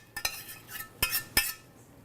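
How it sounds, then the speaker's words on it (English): A spoon or utensil clinks and scrapes against a bowl while meatloaf mixture is stirred together with breadcrumbs, garlic and shallots, giving a few sharp, quiet knocks in a sparse, irregular rhythm with no talking. "And then we mix it."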